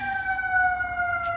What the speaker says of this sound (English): I'm focusing on the ambulance